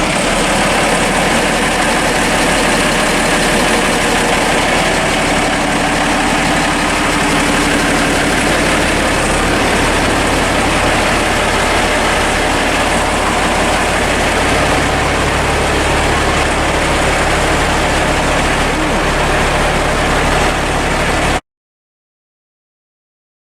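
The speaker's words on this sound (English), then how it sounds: "we're just gonna listen to the sound of this bad boy, the Mercedes Unimog" A 1991 Mercedes Unimog, a truck crossed with a farm tractor, idles close up with a loud, steady low diesel rumble that runs unbroken and then cuts off abruptly.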